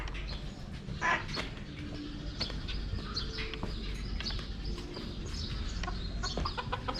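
A chicken or similar bird calls from the grounds of a hotel in Nongsa, Batam: faint, scattered clucks and short chirps over a low outdoor rumble.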